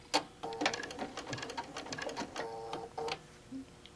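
A home sewing machine stitching a quilt runs in short bursts with a brief hovering pause as the fabric is pivoted, a close, busy mechanical whir with irregular rhythm and no talking.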